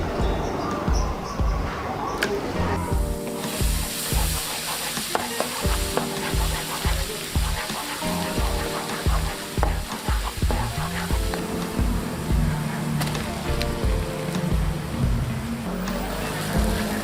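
Garlic and onion frying and being stirred in a pan for dhaba style aloo keema, a steady loud sizzle with scraping stirs throughout.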